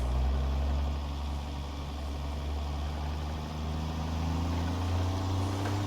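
A heavy truck engine idles close by on a frozen Alaskan ice road, a steady low droning rumble with a faint rising pitch near the end.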